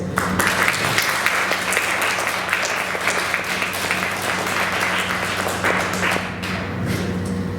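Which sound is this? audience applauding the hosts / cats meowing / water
audience applauding the hosts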